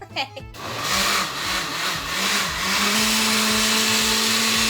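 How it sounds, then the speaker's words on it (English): A blender starts up and whirs loudly as it purees a ratatouille-inspired soup, its motor pitch wavering slightly as the contents churn, preceded by a brief spoken remark. "it's time to puree"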